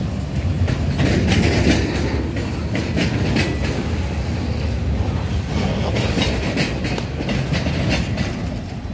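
A train rolls past close by the Waycross, Georgia train deck, a steady loud rumble of railcars with rhythmic clickety-clack from the wheels over the joints, continuous for the whole stretch with no one speaking.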